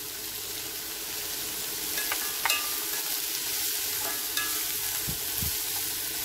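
Chopped onions with salt sauté in a pan, making a dense, even sizzle with occasional scrapes and taps of a spatula, close and without voices.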